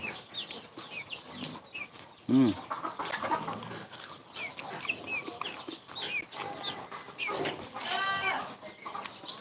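Chicken on a rural farm clucking in short bursts near the listener, with a louder squawk partway through, mixed with people talking casually over a meal.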